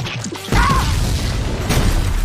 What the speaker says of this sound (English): Let's start with a couple of cherry bombs!